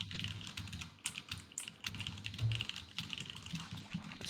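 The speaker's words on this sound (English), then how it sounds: "we were hearing you typing very rapidly" Rapid, continuous typing on a computer keyboard, a dense run of light clicking keystrokes at moderate volume with no voices over it.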